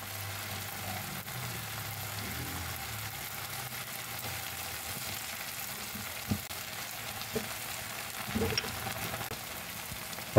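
Chicken pieces sizzle steadily in a hot pan with ginger as tinola begins to cook, a continuous close frying hiss broken by a few soft clicks and stirring knocks.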